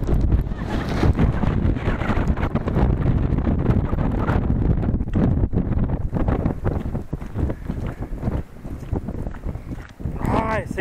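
Strong mountain wind near the Martial Glacier in Ushuaia buffets the microphone in loud, continuous roaring gusts throughout, with people talking faintly underneath.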